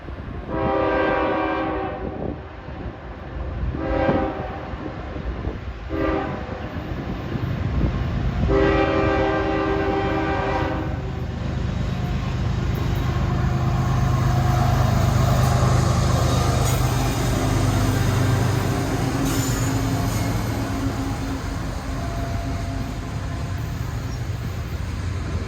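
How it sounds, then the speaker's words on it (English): Near the Thurmond depot in West Virginia, a train passes with several loud horn blasts early on, then a heavy rumble and wheel noise that builds and holds steady for the rest of the pass. "I heard what sounded like a train coming my way"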